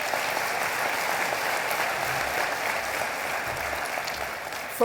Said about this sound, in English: I think we should give a special round of applause to Professor Brian Hughes for